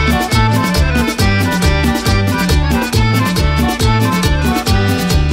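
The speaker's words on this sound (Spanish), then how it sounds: "Y otra vez el acordeón." Accordion leads a lively Mexican tropical cumbia dance band, playing bright repeated phrases over a steady, loud, bouncing bass and percussion beat with no voices.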